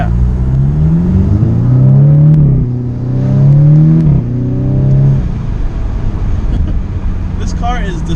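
A 2018 Audi S3 accelerates hard, its engine note climbing in rising sweeps through three gear changes, loud and close from inside the car before settling into a steadier cruise.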